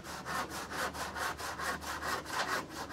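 Wooden planks being hand-sawn in steady, rapid back-and-forth strokes, about a dozen rasping pulls, close and even in rhythm with no speech.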